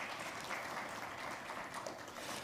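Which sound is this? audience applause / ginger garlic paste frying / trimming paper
audience applause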